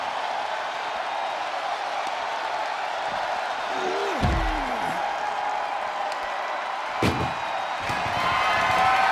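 Arena crowd in the WWE 2K24 video game during an ambulance match between Adam Copeland and Christian Cage, a steady roar of cheering through the clip that swells briefly with slam impacts near the middle and end.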